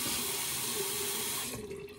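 A bathroom tap runs during a wet shave, a steady close hiss of flowing water into a sink that thins slightly toward the end, with no voices.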